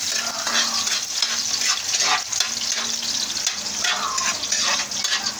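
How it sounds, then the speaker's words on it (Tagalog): Pakbet sautéing in a pan, a bright continuous sizzle with occasional stirring scrapes, close and steady from start to end. "Ginigisa na."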